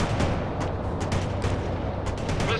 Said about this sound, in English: Launching tow, sir.